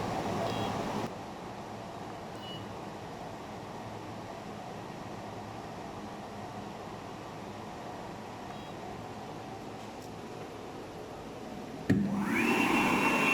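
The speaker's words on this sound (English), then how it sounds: "That's the vacuum pump." A vacuum pump on a CNC router drones steadily and loudly from start to finish, with a brief click and a rising shift in tone near the end.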